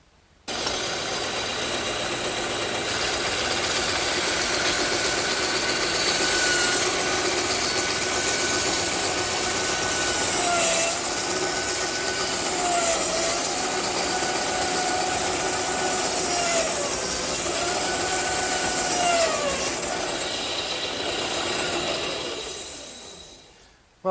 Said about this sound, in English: I think I'll cut them over on the bandsaw